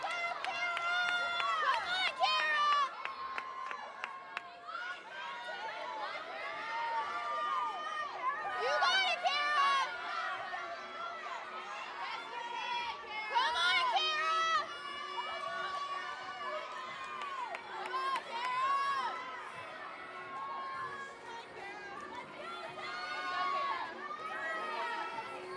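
Women's college gymnastics teams from West Chester, Cortland and Brockport cheer on their next gymnast in an arena, with bursts of shouted encouragement and lively crowd noise rising and falling throughout.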